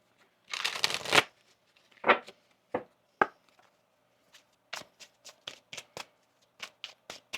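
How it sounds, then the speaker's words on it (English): Tarot cards riffled together in a quick papery burst, then a string of lighter flicks and snaps as they are tapped and split, close up with no voices. "one more shuffle"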